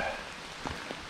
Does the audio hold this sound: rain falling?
yes